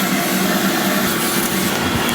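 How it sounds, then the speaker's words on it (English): A vacuum cleaner runs close up over car seat upholstery, pulling crumbs, debris and dog hair from the seams, a loud, steady whooshing roar with no talk. "just vacuum out this upholstery, get the crumbs and the debris from the seams"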